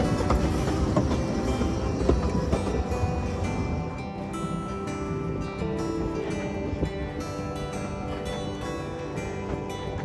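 A replica steam locomotive hauls a train on the Talyllyn Railway in Mid Wales, a steady rumbling run with rhythmic clatter and wheel noise, heard close and continuous for about ten seconds with no talk.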